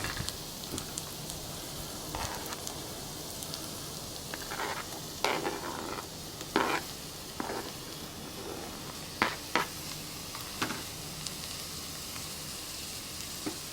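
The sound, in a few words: Spam frying and sizzling in a camp cooking pot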